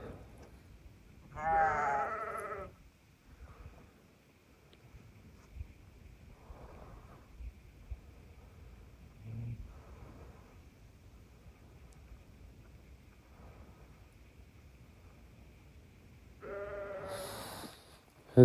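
Sheep of a flock bleat at night in snowy mountains, one loud nearby bleat early, scattered fainter calls in the middle, and another strong bleat near the end, set against quiet windy stillness.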